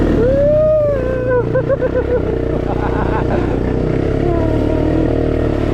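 A Honda Recon 250 four-wheeler engine revs up and down, rising and falling in pitch, loud and close, with a steady motor drone running throughout.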